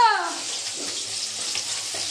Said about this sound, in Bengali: আর এদিকে তো বললাম তোমাদের মাছ ভাজা হচ্ছে